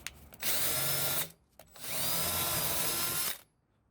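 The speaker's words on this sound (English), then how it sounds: "Let's go ahead and screw this on." Power drill driving screws into a wooden planter, two close, loud whirring bursts, about one and one and a half seconds long, with a short gap between them.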